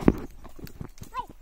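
Buffalo hooves clop along a path as a herd is driven out to graze under the afternoon sun, with a few close, uneven steps mixed with a person's calls and brief voices.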